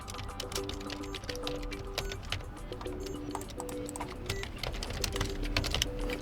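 Quick bursts of keystrokes on the keyboard of an ASUS ZenBook A14 laptop, soft close clicks tapping in irregular runs with short pauses, fairly quiet and with no voices.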